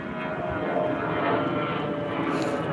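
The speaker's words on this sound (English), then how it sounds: "Got the plane going overhead." An airplane passes overhead, a steady broadband engine roar that holds at an even level for the whole stretch with no voices over it.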